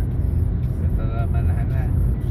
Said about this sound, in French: Ça c'est un camion qui va en catalan.